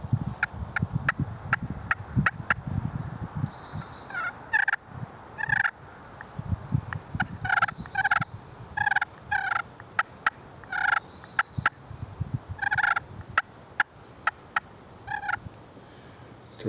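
A hand-made turkey call striker produces a series of soft clucks and purring rasps in short irregular bursts, close and alone over quiet background hiss.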